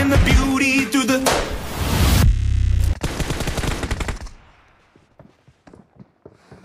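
Gunfire in the PUBG Mobile shooter game, loud rapid automatic bursts up close for a few seconds, then fading into faint scattered sounds.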